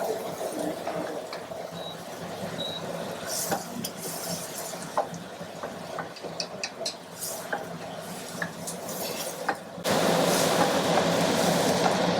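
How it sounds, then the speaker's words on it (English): Onions fry and are stirred in a pan with a steady close sizzle, broken by scattered scraping and clinking of the utensil against the pan, and the sizzle grows louder toward the end. "You need to fry the onion until it gets the brown in color."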